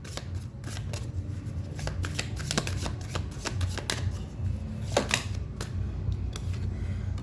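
Oracle cards being shuffled by hand during a Hindi tarot reading, a steady run of crisp riffling and flicking clicks close up, with no talking.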